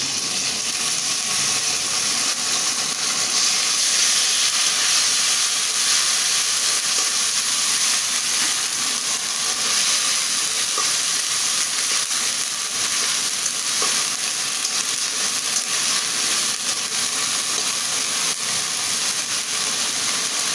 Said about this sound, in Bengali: আমার পেঁয়াজটা কিন্তু ভাজি হয়ে গেছে, সুন্দর করে লাল লাল করে ভাজিয়ে নিছি।